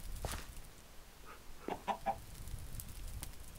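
Minecraft chickens clucking in a short burst of three quick calls near the middle, fairly quiet over steady game background noise.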